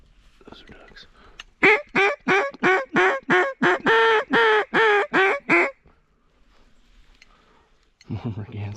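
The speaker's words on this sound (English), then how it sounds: "Those are ducks." About a dozen loud, evenly spaced quacks from ducks at dawn on a hunting outing, close and rhythmic, then a quiet pause before a low rumble and faint noise at the end.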